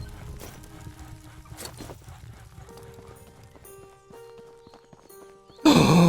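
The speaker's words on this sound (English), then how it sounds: "Wait, there's a horse." Horse hooves clip-clop in a survival crafting game set in a RuneScape-style open world, a light steady walking rhythm under game ambience before a sudden loud burst at the end.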